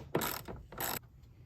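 Two quick bursts of socket ratchet clicking close up as a long socket tightens a nut on the bumper of a 2022 Ford F-350 Super Duty Platinum, each burst loud and rasping, with a short pause between them.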